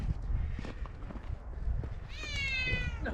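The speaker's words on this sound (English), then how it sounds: "We got our grumpy cat there, wants some attention." Grumpy cat meowing for attention in a garage among vintage Harley-Davidson motorcycles, a drawn-out, wavering meow near the end over a low background rumble.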